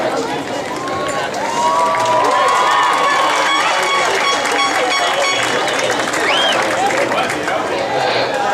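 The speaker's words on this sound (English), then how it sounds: "Every one of us deserves the loudest and most enthusiastic applause for all of our accomplishments thus far." A high school graduation crowd at the 2014 NEHS ceremony breaks into loud sustained applause and cheering with whoops, swelling after the first second and holding strong for several seconds.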